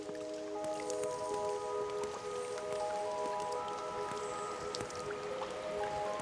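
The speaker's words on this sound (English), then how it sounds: "Drop by drop, the glacial dome releases its waters into the icy stream below" Meltwater drips steadily from a glacial ice dome inside an ice cave above an icy stream, with sharp, echoing drops falling irregularly over a quiet, trickling background.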